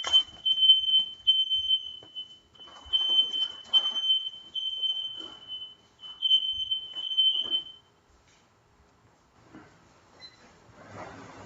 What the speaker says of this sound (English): There was some small fire alarm.